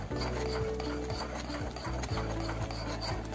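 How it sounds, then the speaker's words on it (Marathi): Spoon scraping and rubbing steadily in a pan as cocoa powder is stirred into melted sugar for a chocolate cake, rhythmic strokes repeating close up with a low hum underneath and no talking. "त्यामध्ये 2 चम्मच कोको पावडर टाकूया आणि हे छान असं मिक्स करून घेऊया"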